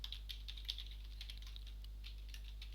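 Steady stream of computer keyboard keystrokes while someone writes Erlang module code, soft irregular clicks at close range over a low electrical hum, no voices.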